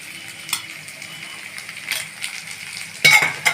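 Brinjal, lentil dumplings and other vegetables, seasoned with salt, turmeric and chilli powder, fry in a pan under a soft sizzle, with several clinking scrapes of a spoon stirring and a louder clatter near the end.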